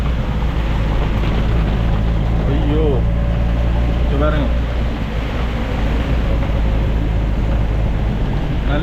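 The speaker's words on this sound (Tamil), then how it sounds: "மழை அடித்து ஊற்றுது வேணுங்க இப்போ இந்த காற்றுகளும் அடிக்க தொடங்குது" Heavy rain and rising wind pound down during a storm in Jaffna, making a dense, constant roar that fills the whole stretch. A voice speaks briefly over it.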